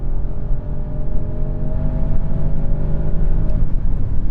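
A new Audi S8 accelerates hard on the Autobahn, its engine note a loud, steady rising roar that builds continuously over several seconds with road and wind noise underneath, no voices.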